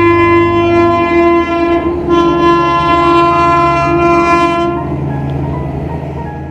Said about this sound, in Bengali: তোমাদের ট্রেন এসে গেছে